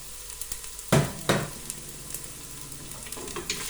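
Onions go into a hot wok with a couple of sharp sizzling bursts, then settle into a quieter, steady frying hiss, heard close.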